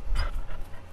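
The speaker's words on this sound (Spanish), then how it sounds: "Este no es mi perro." A dog pants close by in quick, breathy huffs that run steadily through a brief moment, with no voices.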